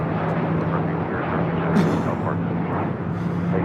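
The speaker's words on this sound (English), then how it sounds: "This is FedEx 3954 coming in from Seattle" A FedEx MD-11 cargo jet arriving at LAX from Seattle gives a steady, fairly loud broadband roar with a low drone, continuous throughout, with a brief brighter swell near the middle.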